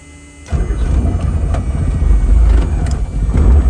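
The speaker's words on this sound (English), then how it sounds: "So now I'm going to hit the start button to motor it, and as soon as it hits, I'm going to bring in the mixture, and the aircraft should start right off" A Robinson R44 II helicopter engine cranks and catches after a brief quiet moment, then runs with a loud, close, rough rumbling throb.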